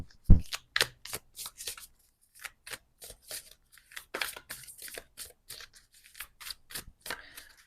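Oracle cards being shuffled in a string of crisp, close riffling snaps, each short burst followed by a brief pause, the first one loudest, with no talking.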